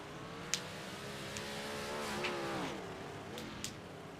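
Big block modified race cars roar together around a speedway under caution, their engines droning steadily with pitch sweeping up and down as the field bunches, a few sharp clicks over the top.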